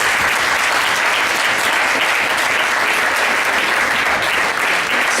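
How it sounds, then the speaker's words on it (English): Loud, dense applause from an evening audience thanking panelists at a transportation event, a full continuous wash of many hands clapping with no individual claps standing out. "give a big round of applause for our panelists tonight"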